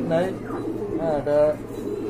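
Pigeons in a pair kept for breeding coo close by in soft, rolling bursts, two or three repeated calls over a short stretch, with someone talking over them.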